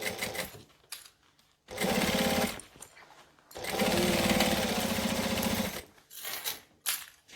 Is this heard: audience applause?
no